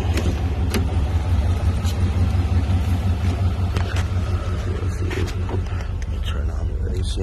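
Box-body Chevy Caprice idling, a steady low engine rumble close by with a few light clicks and taps on top, and people talking intermittently over it.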